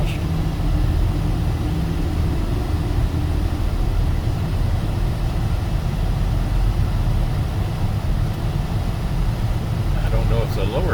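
A car driving across a bridge between Northern Kentucky and Cincinnati while the bridge is under repair, a steady loud low rumble of road and engine noise that continues without a break.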